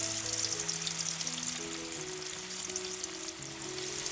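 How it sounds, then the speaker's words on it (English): Marinated chicken sizzles and crackles in hot coconut oil in a pan on a high flame, a steady dense frying hiss that is close and alone throughout. "Once the oil is hot, add in the marinated chicken."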